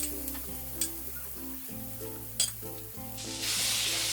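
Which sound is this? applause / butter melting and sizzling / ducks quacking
butter melting and sizzling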